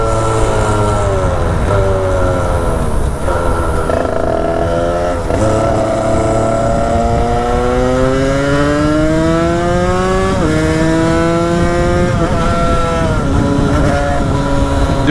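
A Derbi 70 motorcycle engine revs and accelerates hard and close up, its pitch climbing repeatedly through gear changes with a loud, continuous buzzing whine.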